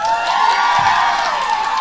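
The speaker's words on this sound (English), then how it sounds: "Clap if you want to hear from Grace first." A studio audience at a dating show breaks into steady, loud clapping and cheering, a continuous wash of applause and crowd noise with no clear pauses.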